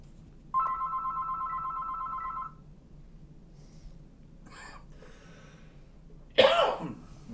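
A telephone rings in one sustained electronic burst of about two seconds. After a quiet stretch, a loud cough-like noise follows near the end.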